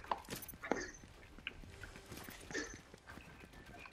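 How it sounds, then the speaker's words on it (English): Footsteps of an enemy player in Fortnite tap along in an irregular run of crisp, close clicks over roughly four seconds, with light game noise underneath and no talk. "I can hear his footsteps."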